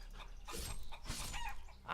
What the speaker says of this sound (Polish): Załatwmy te kurczaki.